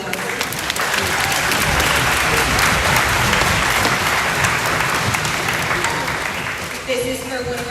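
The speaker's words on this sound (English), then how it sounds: "Round of applause." Sustained audience applause at a school concert while booster parents receive gifts, dense steady clapping from a large crowd filling the room, loud and even throughout with no voices rising above it.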